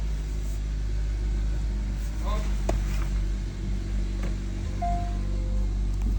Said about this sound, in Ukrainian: Ось запустився ДВС у нас